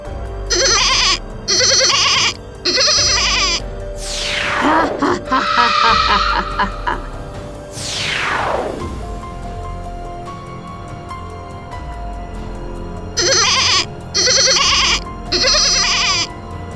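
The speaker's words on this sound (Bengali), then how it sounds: "ছাগলটার ডাক ভেসে আসছে" A goat bleats in a Bangla cartoon: loud, repeated bleats in short bursts, mixed with sweeping sound effects and some background noise.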